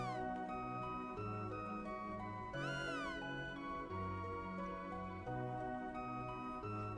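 Chrono Trigger cat at a fair giving a single short rising meow that sweeps briefly over steady game music.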